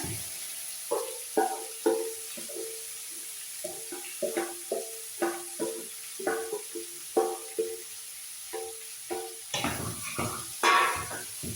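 Chopped ivy gourd pieces tipped into a pan, then stirred with a spatula in a home kitchen, giving a run of distinct scraping and clattering strokes over a faint sizzle, close and fairly quiet.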